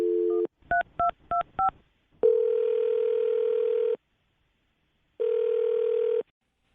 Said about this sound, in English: I'm about to dial her phone number right now